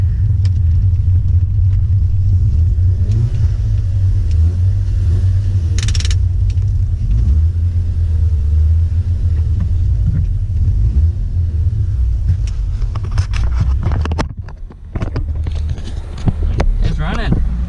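Mazda RX-8 with a rebuilt rotary engine creeping along at about 10 mph in second gear, a steady deep low rumble throughout, close and loud, briefly dipping near the end.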